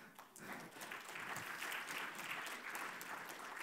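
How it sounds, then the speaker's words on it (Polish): Steady applause from a crowd, a dense patter of clapping that continues evenly for a few seconds at moderate distance. "Ogromne brawa."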